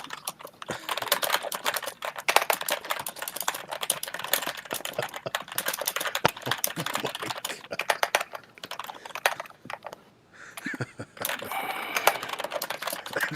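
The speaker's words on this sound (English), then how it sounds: "when somebody is typing crazy in the chat, we're gonna play this sound effect" A typing sound effect played on a livestream, rapid continuous keyboard clatter, dense and fairly loud, with a short pause near the end before the clicking resumes.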